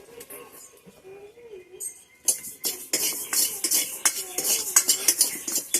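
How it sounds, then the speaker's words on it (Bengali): A handful of rice is dry-roasted in a pan, with a person talking at first. Then a metal spoon scrapes and clinks against the pan in quick, irregular strokes that grow louder and busier. "তো সবাই প্রথমে এক মুঠো বুক চাল আমি ভেজে নেই"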